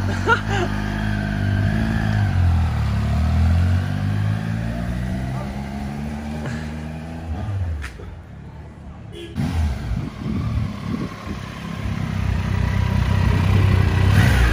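A motorcycle engine, a Tiger, drones and revs steadily while riding with a passenger on the back, with wind rush and occasional voices over the running motor.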